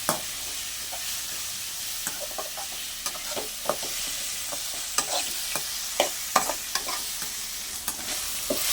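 Grated raw mango sizzles and fries in a pan, with steady crackling and repeated scraping clicks of a spatula stirring throughout, close and alone.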